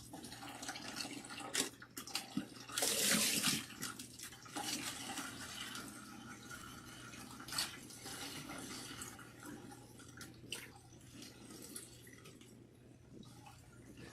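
Water pours and splashes steadily over hair being rinsed above a bucket, a continuous close trickling and dripping with a brief louder gush early on, no talking.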